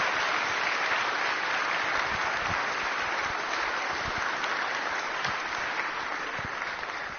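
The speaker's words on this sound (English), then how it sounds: "Can we give them one more round of applause?" Sustained audience applause fills a chapel at a Veteran's Day service, a steady dense wash of clapping from many hands lasting several seconds at even volume with no voices over it.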